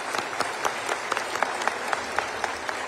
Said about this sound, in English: Let's give our winners another round of applause.